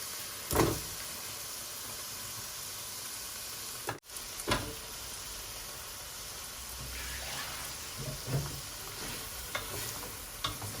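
Radish pieces sizzle after being tipped into a long-cooked spice masala for a Bangladeshi-style radish and aair fish curry. A steady hissing fry runs throughout, broken by a few sharp clatters and scrapes from stirring.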